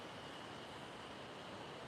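Steady broadband rush of a waterfall pouring down beside a hiking path near Yubari, Hokkaido, heard close and continuous with no breaks and no talking.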